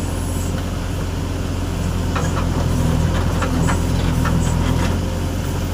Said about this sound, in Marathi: काम चालू आहे जे सी बी चालू आहे ट्रॅक्टर आहे दोन